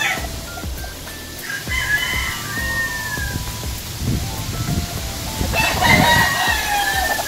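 Several backyard gamefowl, including a Boston Roundhead rooster, crow in drawn-out calls that overlap and repeat nearby. Clucks and scattered bird sounds come between the crows, with faint talk in the background.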